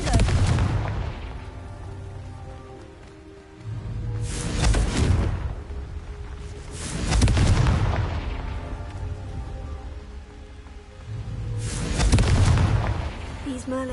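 Confringo blasting spells explode in Hogwarts Legacy, four heavy booming blasts spaced a few seconds apart, each swelling and fading, over a low game backdrop.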